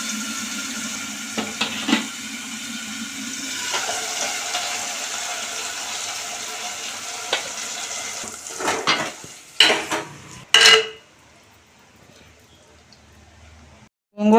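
Gongura leaves go into hot oil for a dried prawn curry, giving a soft, steady sizzle for several seconds, then sharp clanks and scrapes of a utensil against the pan before a quiet pause.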